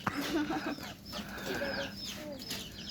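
Chickens cluck in a steady run of short, close calls over a constant rumble of background noise, with no voices heard.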